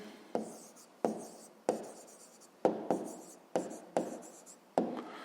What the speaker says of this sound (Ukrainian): а зараз записуємо відповідь